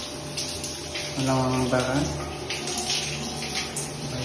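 Water runs steadily down a shower drain in a condo unit, a continuous close rushing wash with a brief spoken phrase over it.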